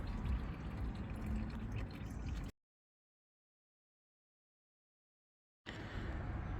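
Clear water glugs and splashes as it is poured from jerrycans to rinse out a rust-stained truck tank, a steady loud pour that cuts off abruptly into silence for about three seconds before resuming.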